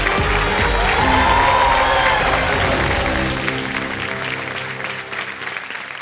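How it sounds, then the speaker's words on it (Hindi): Studio audience on the Kaun Banega Crorepati game show gives loud, sustained applause over sustained background music, with the clapping gradually thinning toward the end. "तालियां बज जाएं जोरदार जरा।"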